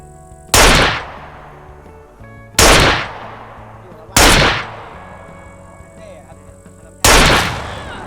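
Four sharp, loud pistol shots in the video game SCUM, spaced a couple of seconds apart, each with a decaying echo, over a quiet electronic background hum.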